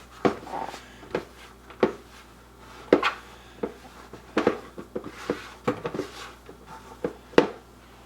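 Pie dough for an apple butter pie worked by hand on a counter, a sparse series of soft thuds, pats and sticky presses at irregular intervals, close and quiet with no talking.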